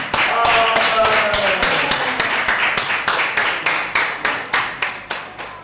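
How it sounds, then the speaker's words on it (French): Applause from a church congregation during a French-language sermon, a dense burst of clapping that thins into slower, separate claps fading over several seconds, with a sustained tone and voices beneath at the start. "Applaudissements."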